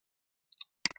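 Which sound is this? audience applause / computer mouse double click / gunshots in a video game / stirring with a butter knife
computer mouse double click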